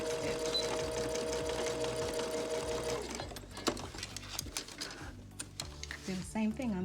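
Sewing machine backstitching on a pillowcase shirt seam, a close rapid whir for several seconds, then shorter stop-start bursts of needle clatter as the stitching reverses.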